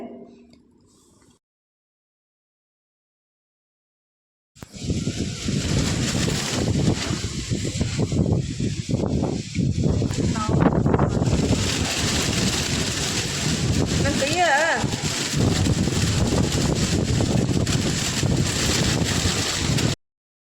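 Strong wind roars and buffets steadily after a short quiet start, a loud continuous rush with gusty rumbling throughout.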